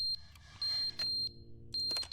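Electronic alarm beeps in the video game The Stanley Parable, sharp, loud high-pitched tones in an uneven repeating pattern with brief gaps between them.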